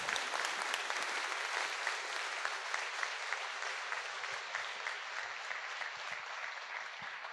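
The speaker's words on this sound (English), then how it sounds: "So one applause for the student" An audience at a student showcase gives a student a round of applause. The clapping is steady and even, with a distant roomy quality, continuing for the full several seconds without voices.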